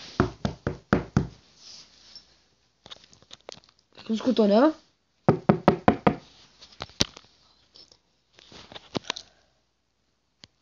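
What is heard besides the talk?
knocking on a door in a video game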